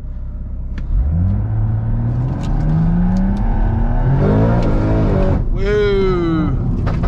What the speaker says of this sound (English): Car's spinning out way too much